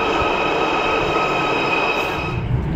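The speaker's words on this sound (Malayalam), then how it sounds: "അവിടുന്ന് ട്രെയിൻ കയറി 2 സ്റ്റോപ്പുണ്ടോ എവിടെ, ലിവർപൂൾ ലൈൻ സ്റ്റേഷൻ." A Liverpool line train rumbles steadily on the rails with a high metallic whine, close and continuous with no voices.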